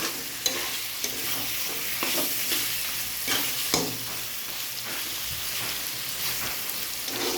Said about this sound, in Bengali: ভালো করে কষিয়ে নেব। যত কষাবো ততই টেস্টটা বাড়বে।